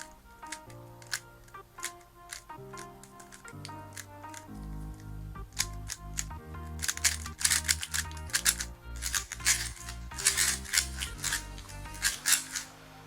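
A Rubik's cube turned one-handed, rapid crisp plastic clicks and clacks in quick bursts, close and fairly loud, with a background music track running underneath.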